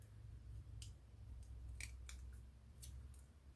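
Scissors cutting paper, a handful of short, crisp snips at an uneven pace, close and quiet over a soft low hum.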